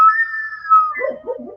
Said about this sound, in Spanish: Esta cabeza es la cámara de resonancia y el silbato está dentro